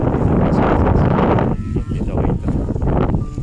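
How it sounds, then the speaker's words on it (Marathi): Wind buffets the microphone in loud, low rumbling gusts, with a brief spoken word and rustling around it. "वारा असल्यामुळं तुम्हाला ऐकू येते का नाही काय माहिती"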